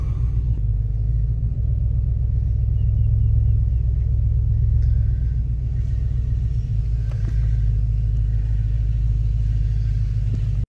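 A truck is pulled out with a doubled rope, and a vehicle engine rumbles low and steady for the whole stretch, close and loud, with faint knocks now and then and no talking.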